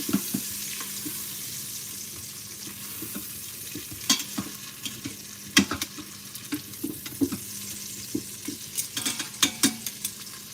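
Food tossed and heated in a pan with residual heat: soft sizzling under a run of irregular clanks, taps and scrapes from utensils, growing busier in the second half, with no talk.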